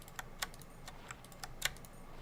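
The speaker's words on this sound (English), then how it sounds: "I'm having a heck of a time trying to get my keyboard to not be picked up in the mic" Keys clatter on a computer keyboard in irregular light taps, with a few sharper strokes standing out, close but quiet and with no voices.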